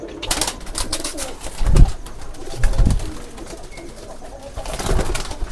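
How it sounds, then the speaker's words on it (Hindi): A Panch Kasuriya pigeon gives low cooing calls on a rooftop loft, about three soft, throaty bursts spaced a second or so apart over a steady background hiss. "पंच कसूरिया कबूतर है"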